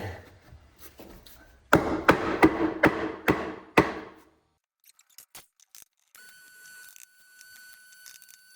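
A hammer drives a nail at an angle into salvaged century-old tongue-and-groove Douglas-fir decking for a workbench, giving about six loud, sharp strikes in a steady rhythm and then a few lighter taps, close and alone.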